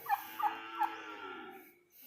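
A few quick gobbling calls from small-scale farm-raised turkeys close by, three short bursts followed by a fading trailing call.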